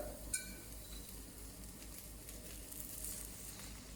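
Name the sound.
onions frying in olive oil in a hot casserole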